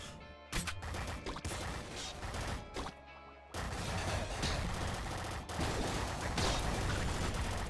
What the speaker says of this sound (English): Hyper Bouncer Rifle.